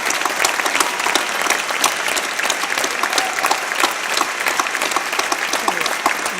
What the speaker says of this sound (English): So if we could all right now give him just one big round of applause for everything that he's done.